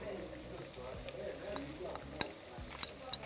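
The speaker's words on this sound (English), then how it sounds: "I am going to add our garlic and ginger paste" Onions frying in oil as garlic and ginger paste is added, a quiet low sizzle with scattered clinks and scrapes of a spoon against the pan.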